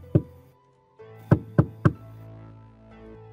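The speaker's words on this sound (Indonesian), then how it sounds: "Dengan memberanikan diri, mereka pun kemudian mengetuk pintu rumah tersebut." A house door is knocked on up close: one solid rap, a short pause, then three quick firm knocks in a row, each dry and wooden, with no voices.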